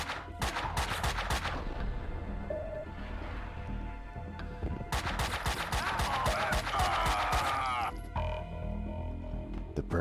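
Enemy gunfire in the Max Payne 2 video game: loud rapid bursts of shots early, then another long sustained barrage mid-way, with brief quieter gaps and a few trailing shots.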